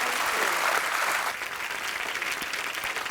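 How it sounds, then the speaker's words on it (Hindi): A studio audience at a Hindi comedy talk show claps loudly, dense applause that eases a little past the midpoint and continues steadily, with no speech on top. "जोरदार तालियां एक बार"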